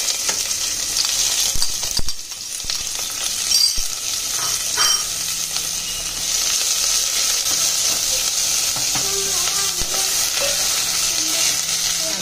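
Two small onions, sliced lengthwise, frying in a pan after garam masala for chicken pulao, with a steady loud sizzle, bright hiss and a few scraping stirs throughout, no voices.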